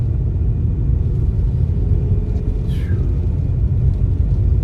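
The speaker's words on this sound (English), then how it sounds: "We're actually getting some good gusts here in Lake Stevens ahead of this cold front." Gusty wind ahead of a cold front in Lake Stevens, Washington, roars as a steady, heavy low rumble that fills the whole stretch at a constant loudness, with no voices.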